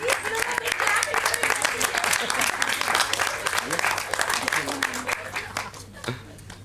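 Audience applause at a children's Panchatantra stage production, sustained dense clapping from a crowd with voices audible over it, fading out near the end.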